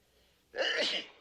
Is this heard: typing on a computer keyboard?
no